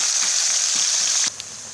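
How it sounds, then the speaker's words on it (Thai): Loud, steady sizzling of pork frying in hot oil, a dense crackling hiss that continues without pause before dropping off abruptly. "ครับนี่ครับทอดมาแป๊บเดียว เริ่มสีสันเริ่มจะได้แล้วครับ"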